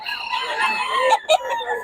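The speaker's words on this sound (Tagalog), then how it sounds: "O kaya mga manok ni Boss Jun, ano?" Chickens clucking and roosters crowing nearby, loud and busy, with overlapping calls and a sharp burst near the end.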